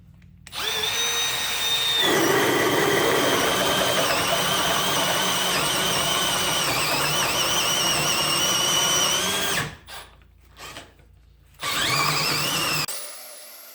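A Milwaukee M12 Gen 2 FUEL hammer drill on speed 1 drives a 2.5-inch hole saw through softwood, a loud close whine with grinding for about nine seconds, then brief bursts and stops as it bogs down.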